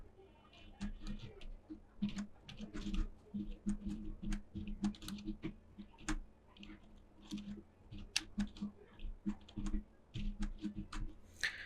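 Code typed on a computer keyboard, with uneven bursts of close key clicks and taps and short pauses, quiet and with no clear voice.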